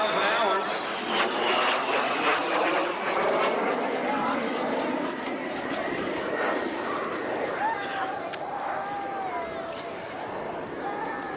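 A fixed-wing aircraft performs rolls at a 1995 Valiant Air Command air show, its engine a steady distant drone rising and falling in pitch while a voice talks over it.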